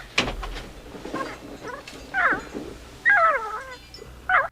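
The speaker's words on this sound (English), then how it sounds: "Oh, it's a gremlin." Gremlin creatures from the 1984 film Gremlins chatter in high, warbling squeaks and chirps, sounding in several short bursts of rising and falling calls against quiet movie ambience.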